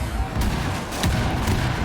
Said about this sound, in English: because of the explosions that have been made on the floor, exactly where those 5 pucks just went off